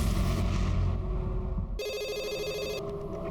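A telephone rings indoors in a police station, first muffled under low rumbling background noise and then as a clear, loud electronic trill lasting about a second.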